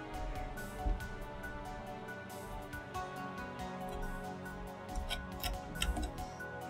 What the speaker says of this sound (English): You always cut tails off, drive the chisel down across them